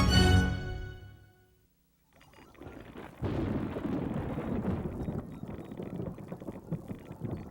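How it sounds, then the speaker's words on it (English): A sharp crack of thunder rolls off into silence, then a deep, steady rumbling roar builds and continues like a storm passing overhead. "A storm is coming. Yes, a thunderstorm."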